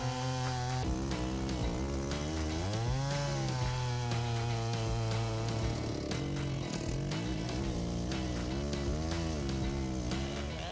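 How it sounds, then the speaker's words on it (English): A large ported Stihl 661 chainsaw with a 60-inch bar roars loudly and continuously, its pitch dipping and rising as it bogs into oak, close by with no talking. "The Style 90 chainsaw can handle oak with precision"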